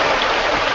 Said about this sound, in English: That's the sound of a geyser of crude oil spewing 20 feet high